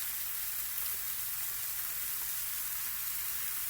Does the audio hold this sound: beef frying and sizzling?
yes